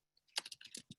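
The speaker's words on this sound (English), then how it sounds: "So I'm going to open up my browser, and I'm going to type in" A quick burst of clicky keystrokes on a computer keyboard while typing into a web browser, about ten close, crisp taps in a second with no talk.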